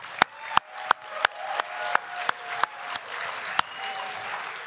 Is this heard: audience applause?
yes